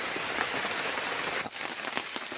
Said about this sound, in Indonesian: masih berlanjut juga hujannya